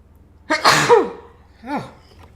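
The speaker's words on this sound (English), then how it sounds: "I feel like I gotta sneeze." Someone sneezes sharply at close range with a single loud burst, then gives a softer vocal follow-up a moment later, amid quiet surroundings during a paper card and mini album craft session.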